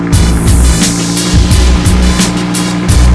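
An Audi R8 V10 Spyder convertible's engine rumbles loudly and continuously up close, with deep low-end throb and repeated revving swells riding over a steady idle, no voices.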